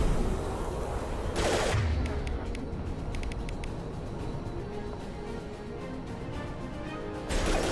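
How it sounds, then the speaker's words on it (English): Gunfire in Mass Effect 2 crackles in steady rapid bursts under ongoing combat noise, with a louder impact near the start and another at the end. "Firing now."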